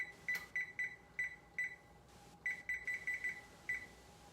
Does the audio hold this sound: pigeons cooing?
no